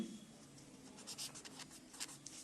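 Faint strokes of writing on a classroom board, short scratchy marks scattered unevenly over a quiet low room hum, with no talk.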